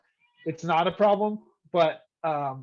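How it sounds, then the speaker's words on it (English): A cat meows a few times, each short and near, mixed in among a person's speech indoors. "sorry about the cat"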